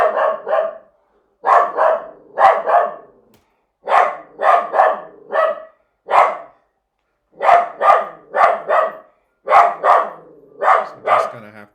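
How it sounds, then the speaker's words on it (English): Dog barking loudly and close in repeated bursts of three to five sharp barks, separated by brief pauses, with no talk over it. "So just gonna have to live through that barking."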